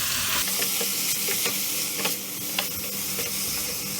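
Fresh spinach is stirred into pulao sizzling in a pan, a steady frying hiss broken by scattered scraping clicks from the spoon, close and alone.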